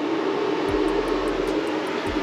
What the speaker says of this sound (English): the noise you're hearing is my fans for the intercooler